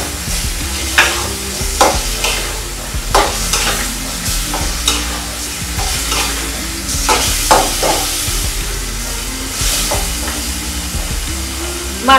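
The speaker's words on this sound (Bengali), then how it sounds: "মাছটাকেও আমি ভালোভাবে কষিয়ে দিচ্ছি।" Snakehead fish pieces sauté with potato and tomato in a pan: a loud, steady sizzle broken by repeated scraping and clattering stirs at an uneven rhythm, with no talking.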